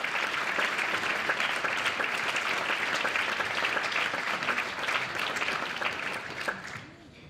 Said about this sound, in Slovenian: mu bomo dali en velik aplavz